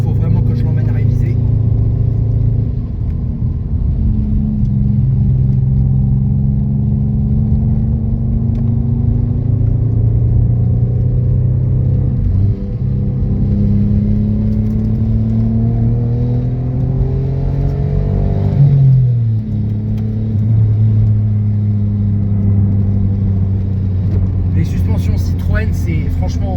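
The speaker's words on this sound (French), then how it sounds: "la voiture franchement elle est pas au meilleur de sa forme" Citroën XM V6 24 engine running steadily in a car that is in poor shape, a loud continuous mid-low drone with slowly shifting pitch and a brief change near the end, with talk over it.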